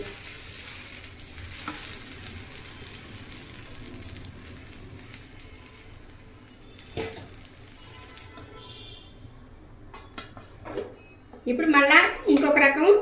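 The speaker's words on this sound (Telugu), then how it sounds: "దోశ వేస్తున్నానండి" Dosa batter poured onto a hot pan, a sharp crackling sizzle bursting up near the end after a quieter stretch of soft kitchen clatter, with someone talking in the background.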